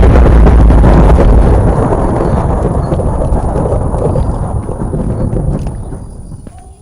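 A loud, deep thunderclap from the Minecraft video game booms at once and then rolls away in a long, slowly fading rumble, with no other sound over it.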